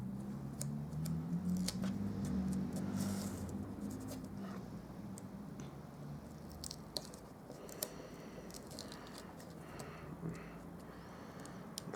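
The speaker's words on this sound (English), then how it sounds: "So I'm just going to use my scissors just to help me along." Scissors snipping through adhesive backing on paper-craft material, a series of faint, sharp cuts scattered over a quiet low background.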